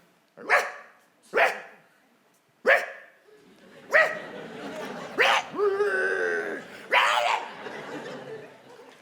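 A dog barks in sharp single barks spaced a second or so apart, then a longer whining, yelping run, fairly close with a quiet background.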